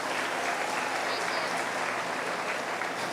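Applause at a 4-H meat goat show, a dense, even wash of many hands clapping at moderate level, steady throughout with faint crowd murmur underneath.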